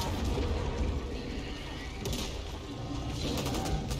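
Birds in the video game Back 4 Blood, cooing and calling over a steady background rumble, with a few brief brighter bursts mixed in and no talking.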